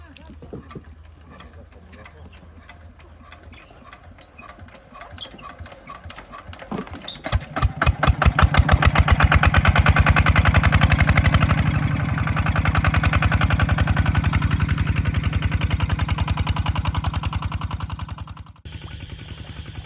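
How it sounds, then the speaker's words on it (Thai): An engine-driven water pump starts after some quiet handling noise, then runs loud and steady close by with a rapid pulsing chug while draining a fish pond, easing slightly near the end. "เราจะสตาร์ทเครื่องแล้วก็ สูบให้แห้งเลยนะครับ"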